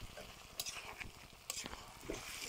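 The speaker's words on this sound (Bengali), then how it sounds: "মাংসটা আমি ঢেলে দিচ্ছি।" About one kilogram of beef poured into cooked-down spices in a pan, meant for bhuna with beef liver: faint steady sizzling with a few soft stirring scrapes, quiet and close.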